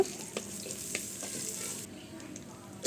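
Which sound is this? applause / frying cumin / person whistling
frying cumin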